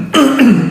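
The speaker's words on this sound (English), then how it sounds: "I have to clear my throat for this one." Single throat clearing, a short raspy close-up burst repeated in two quick pushes with a slight voiced tail.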